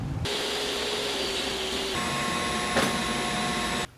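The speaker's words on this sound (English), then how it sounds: "I'm going to go ahead and clean this up with just a sander grinder and make some of the ridges go away" Sander grinder smoothing the ridges of a cut notch in a structural build, a close, steady motor whine that shifts in tone partway through as the load changes, with a short scrape near the end before it cuts off.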